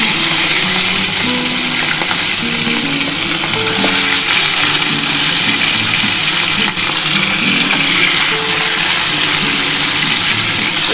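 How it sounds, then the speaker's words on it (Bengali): A catla fish head frying in hot oil, a loud, steady crackling sizzle that runs unbroken throughout, with faint stirring and clinks beneath and no talking. "বন্ধুরা, আমার তেলটা গরম হয়ে গেছে, আমি এবার মাছের মাথাটা দিয়ে দিলাম।"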